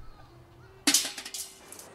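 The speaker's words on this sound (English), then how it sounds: "The sound that you are about to hear is a BB falling into a metal soup pot." A single small metal BB pellet drops into a metal soup pot with a bright, sharp ping, followed by a few quick faint bounces and a ringing tail.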